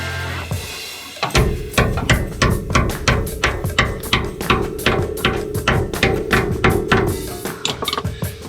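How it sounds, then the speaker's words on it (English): A hammer strikes a metal clip on the front brake line of a 1963 Chevrolet C-10 truck, a fast, even series of loud, sharp close-up taps that continues steadily for several seconds. "Let me get a hammer."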